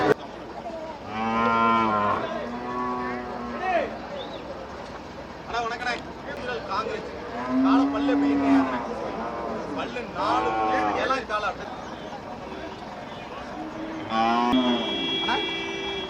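Several cattle low repeatedly, loud and close, at the Melapalayam cattle market, with people chatting in the background amid a busy crowd.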